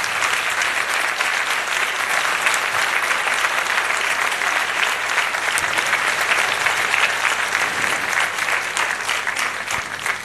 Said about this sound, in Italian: applauso collettivo ai candidati